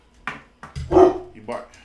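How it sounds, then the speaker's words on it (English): A dog barks several times nearby, short sharp barks spaced unevenly, with a voice mixed in. "Who you barking at?"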